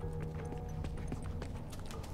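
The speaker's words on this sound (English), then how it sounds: "I hear the fucking horse behind you" Horse hooves clopping in The Last of Us video game, a steady run of sharp hoof strikes over a constant low game rumble, fairly close and moving along without any talking.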